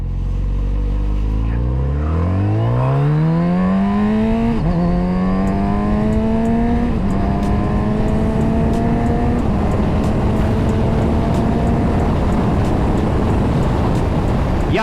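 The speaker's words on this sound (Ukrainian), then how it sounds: "Я розганяюся тепер з квікшифтером." A Kawasaki Z900RS Cafe motorcycle with a Dynojet quick shifter accelerating hard, its engine note climbing in pitch and then dropping sharply at each of several quick upshifts, loud and close throughout.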